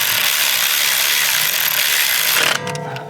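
A Milwaukee power ratchet tightens front brake caliper bolts on a 2011-2017 Honda Odyssey, giving a loud, steady mechanical whir for over two seconds before it cuts off abruptly.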